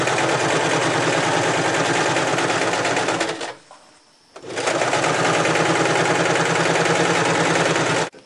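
A sewing machine runs in steady rapid bursts stitching a 2mm line down the folded sides of a fabric bag, pausing briefly midway before resuming; loud and close with no talk.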